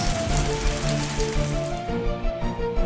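Hail falls in an animated Bible story about the plagues of Egypt, a dense, continuous patter and hiss of pellets striking surfaces, with faint tones running beneath it.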